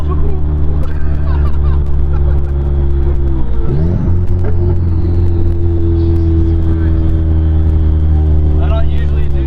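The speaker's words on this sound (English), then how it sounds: "I don't usually do first gear pulls." A 700 hp Cadillac CTS-V accelerates in first gear with a loud, deep engine drone heard from inside the car. The drone holds steady, dips briefly partway through, then climbs again.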